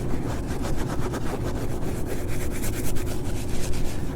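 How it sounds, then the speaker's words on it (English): Steady scratching and rubbing on a rubber roof membrane during a leak repair, a continuous close, coarse abrasive scrubbing with no pauses and no talking. "Scratch it, rub it."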